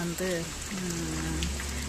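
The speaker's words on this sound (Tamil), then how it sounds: "மழை பாருங்கள் எப்படி பெய்யுதுன்னு" Steady rain pours in the rainy season, a dense constant hiss beneath someone speaking.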